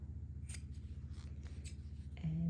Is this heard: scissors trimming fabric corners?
yes